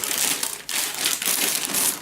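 Long paper map sheets from an Aeronautica Imperialis Wings of Vengeance box being handled, giving a steady close crinkling and rustling with a brief dip partway through and no talk.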